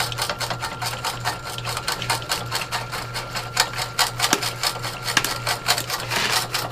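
A jaw crusher with its jaws set nearly closed grinds material finer, making a continuous low mechanical hum under rapid, rattling clatter and irregular gritty crunches, loud and close, with no one talking.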